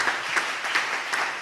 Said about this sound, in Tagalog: Palakpakan natin ng malakas na palakpak.